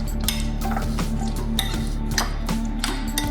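Chana masala being stirred in a cooking pot: repeated clinks and scrapes of a utensil against metal in an irregular rhythm, close and clear with a steady low hum behind and no talking.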